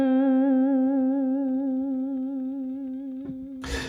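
A sustained electric guitar note with steady, even pitch wavering from vibrato, ringing alone, ending with a brief pick scrape.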